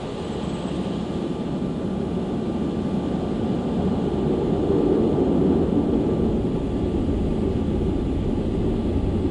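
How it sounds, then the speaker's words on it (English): Concorde supersonic airliner taking off from a Barbados runway: a loud, continuous broadband engine roar that swells steadily over several seconds without a break, with no voices over it. "Concorde 272 is now cleared for takeoff."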